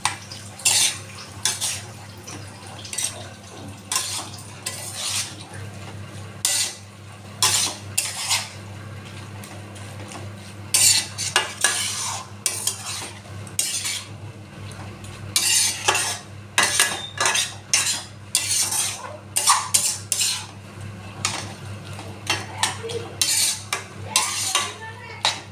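A spoon scrapes and clinks around a pan as prawns with turmeric and salt are stirred for morcha chingri, the metallic strokes coming in irregular bursts over a steady low hum, close and fairly loud.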